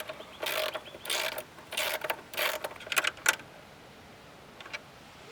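Hand tools tighten a bolt and nut on a bed fly pole in quick bursts of metallic ratcheting clicks, close and moderately loud, then fading to a couple of faint ticks.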